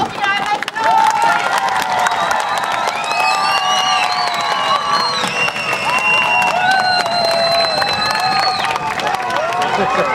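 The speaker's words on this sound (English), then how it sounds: "make loads and loads of noise. Just a bit, yeah. Scream and shout." A crowd of children screams and shouts loudly at a parrot show, a dense sustained roar of high voices and whoops that fills the whole stretch.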